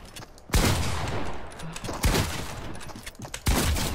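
Gunfire in a multiplayer shooter video game crackles in loud, sharp bursts and repeated volleys, fairly close and dense, with no one speaking over it.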